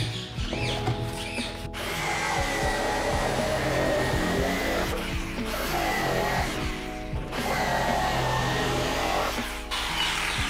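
An electric woodworking machine cuts wood for building birds' nest boxes in a small home workshop, whining steadily and loudly for most of the stretch with brief dips and restarts, alone without talk.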